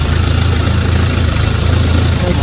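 A diesel engine with a holed exhaust pipe idles loudly up close, a steady broadband rumble and hiss without pauses.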